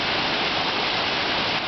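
A 105-meter waterfall at Tivoli, a dense, steady roar of falling water, loud and unbroken throughout.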